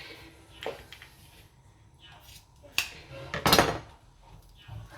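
Kitchen scissors picked up from a cluttered counter before cutting fish: a few sharp metallic clinks and clatters of utensils, one louder rattle in the middle, close by against a quiet room.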